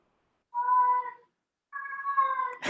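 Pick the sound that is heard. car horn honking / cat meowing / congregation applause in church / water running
cat meowing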